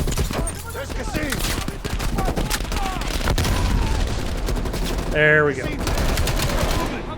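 Sustained automatic gunfire rattles through a firefight in the video game Call of Duty Black Ops Cold War, loud and continuous, with voices speaking over it.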